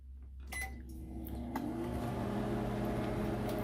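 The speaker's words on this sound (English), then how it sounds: "And there's our noodles warming up" A microwave oven runs on a steady low hum while heating ramen noodles, with a brief beep or click near the start and a constant drone afterward.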